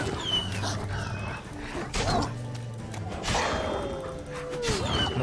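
Wolves in The Witcher 3 yip, bark and whimper in short, scattered calls amid combat sounds, moderately close, with someone talking underneath.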